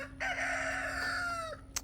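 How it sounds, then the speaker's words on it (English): A rooster near a garden crows once, loud and close, in a long drawn-out call that trails off, with a brief sharp sound just after it. "The rooster over there want to act crazy."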